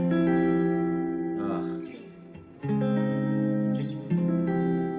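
An electric guitar rings out a chord with an added 4th or 11th, struck three times with sustained, slightly distorted tones that linger and overlap, close and loud with no talk.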